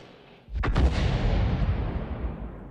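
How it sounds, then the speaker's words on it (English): A single tank cannon round fires in a video game, a sharp loud blast near the start followed by a long rumbling boom that slowly fades over a couple of seconds. "we fire a round in"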